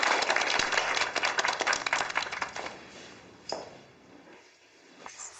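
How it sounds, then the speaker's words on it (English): Audience applause, a dense burst of clapping that thins out and fades over several seconds, leaving a few scattered claps near the end. "Let's give him a round of applause."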